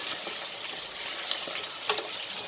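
Onions and mushrooms cook in a sauce in a pan with a soft, steady sizzle, broken by light scrapes and clinks as a utensil stirs, heard close but quietly.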